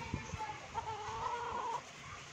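Young gamecock stags cluck softly near a roadside, a brief string of low, close clucks over steady background noise.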